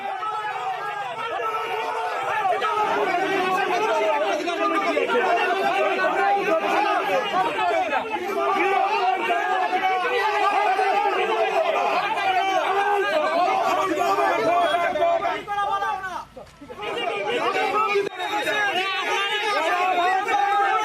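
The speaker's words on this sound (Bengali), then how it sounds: "দেওগাঁওয়ে বিজেপি প্রার্থী মনোজ টিগ্গা, তাকে ঘিরে বিক্ষোভ, গো ব্যাক স্লোগান" A crowd of protesters surrounds a BJP candidate at a rally in Deogaon, Falakata, raising a continuous din of shouting and overlapping voices that stays loud and steady, dipping briefly near the end.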